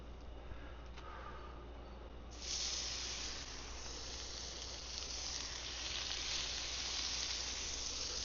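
Blackened tuna sizzling on a hot grill, a steady broad hiss that jumps louder after a couple of seconds and then holds, close and continuous with no talk.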